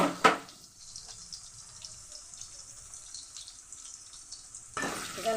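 Onions fry in a pan as ginger and garlic paste go in: a soft, low sizzle through the middle, framed by louder bursts of frying and stirring at the start and end.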